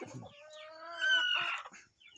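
A hen clucks and chatters in a chicken coop, making a long run of close, fairly loud calls that rise in the middle, with no one talking.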